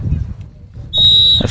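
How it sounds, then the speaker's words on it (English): A referee's whistle blows one long sustained shrill blast before the kickoff at a Dubois vs Burlington high school football game, rising over crowd murmur and announcer talk. "Official blows the whistle"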